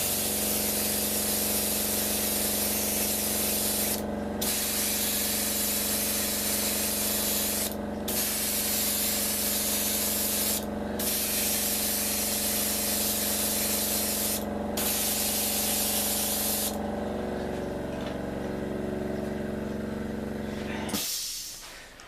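An airbrush spray-paints the propellers of a B-29 model with a loud, steady hiss, broken by a few short pauses and ending abruptly after a long continuous pass.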